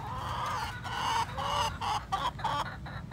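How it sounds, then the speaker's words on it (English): Hens inside a backyard chicken coop, including older birds, clucking and murmuring in short repeated bursts, close and steady, with no one speaking. "So these are two of my oldest hens here."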